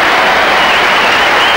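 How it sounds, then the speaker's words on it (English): A burst of loud applause and cheering from a tennis crowd at the 1999 Australian Open final, dense and sustained clapping filling the whole moment. "Loudest cheer of the match so far from the Swedish contingent"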